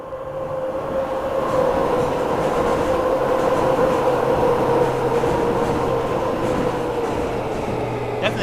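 A train on the Mildmay Line in Train Sim World 5 rolls past, a loud, continuous rumble of wheels and motors with a steady tone, fading slightly at the end.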